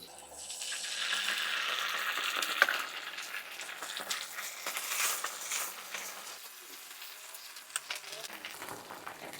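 Garlic and tomato sauce sizzle and fry in a pan, loud at first and then settling to a quieter hiss with a few clinks and stirring sounds, and a voice speaks briefly.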